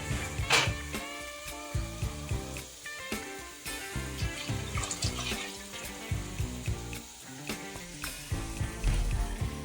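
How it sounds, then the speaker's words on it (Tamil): Coconut milk is poured into a simmering prawn masala gravy, giving a soft liquid splash followed by steady bubbling and sizzling, with clinks of a spoon over a faint musical background. "இப்போ நம்ம அந்த ஸ்டேஜில் நம்ம எடுத்து வச்சிருக்கிற தேங்காய் பால் ஆட் பண்ணிக்கலாம்"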